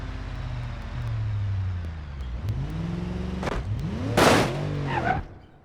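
A car engine in the BeamNG.drive driving game revving and shifting as it is driven into a portal, steady loud motor tone with rising and falling pitch sweeps, then a sharp burst of noise near the end.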